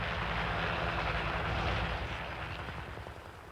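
Military helicopter gunship thundering close by, a loud sustained roar of rotor and engine noise that slowly fades toward the end, with no voices.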